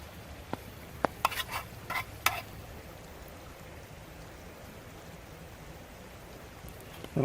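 Shrimp scampi cooking in a pan over a campfire in the woods, a faint, steady sizzle with a few scattered clicks and scraping stirs near the start, quiet and without talking.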